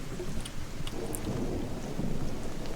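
Rumbling thunder from lightning strikes during a video game storm, a steady low roar with rain-like hiss throughout and a few brief crackling accents, no talk.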